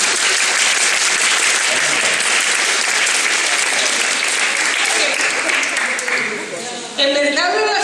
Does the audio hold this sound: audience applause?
yes